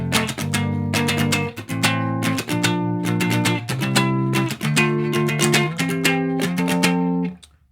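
Electric guitar in drop D tuning strums full chords with an added tenth, shifting the shape to different positions along the fretboard in a steady run of sustained strums, loud and close with no talking.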